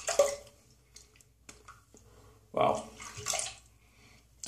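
Water splashes and drips as a face is rinsed by hand after a shave with a vintage Williams shave stick, in intermittent close bursts with someone speaking between them.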